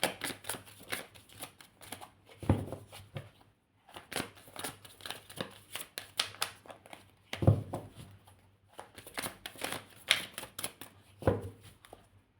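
Tarot cards are shuffled for a reading in repeated bursts of quick papery riffling and soft slaps, close and fairly quiet, with short pauses between rounds.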